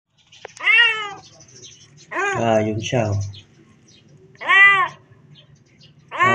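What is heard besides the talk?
trapped kitten meowing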